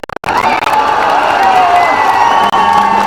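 A political election rally crowd cheers and claps loudly and continuously, a dense wall of shouting and applause that drops out briefly at the start and again for a moment near the end.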